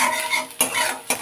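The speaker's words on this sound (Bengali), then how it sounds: "আরও একটু ভেজে নেব।" Fish roe with tomato and coriander frying in a pan, stirred with a utensil: a steady close sizzle broken by two sharp scraping stir strokes, with no voices.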